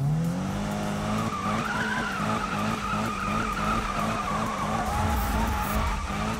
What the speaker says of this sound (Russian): Так, здесь пончик надо скрутить.